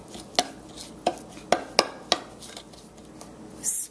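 A spoon knocks and scrapes around a bowl of butter, cinnamon and salt, making a handful of sharp, close clinks at uneven intervals, then a brief scraping swish at the end, with no voices.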